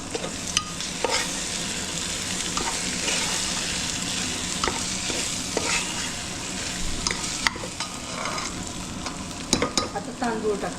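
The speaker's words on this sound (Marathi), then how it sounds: "थोडंसं फिरवायचं, जास्त नाही फिरवायचं।" A pearl millet khichada mixture is stirred in a pan, with steady scraping strokes and a soft sizzle running throughout, some sharper clinks of the spoon standing out, and no voices.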